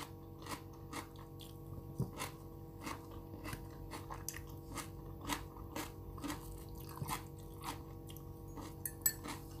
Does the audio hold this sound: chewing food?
yes